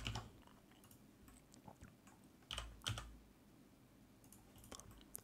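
Light keyboard taps and clicks sound from a computer used for Blender 3D shortcuts, coming in short irregular bursts, close but very quiet, with no voice.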